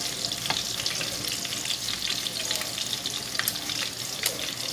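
Chicken cordon bleu frying on low heat in a pan, a steady dense crackling sizzle with scattered pops and brief stirring scrapes throughout.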